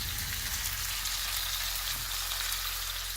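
A steady, bright sizzle of ahi tuna steak searing in a hot pan, continuous and close with no talking.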